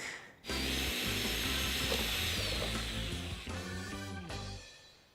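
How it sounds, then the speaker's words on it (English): A power drill boring a hole into a coconut, a loud, close, continuous motor whir with rough grinding texture that holds for several seconds before slowing and stopping. "This thing, I mean, the power drill"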